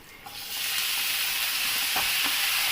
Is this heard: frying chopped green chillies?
yes